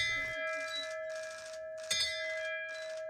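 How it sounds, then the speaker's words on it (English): A hospital celebration bell is rung to mark two years since a lung transplant. Bright, sustained tones ring out and decay, with a sharper fresh strike near the end, close and clear. "Wayne got to ring the bell to celebrate 2 years with his new lungs."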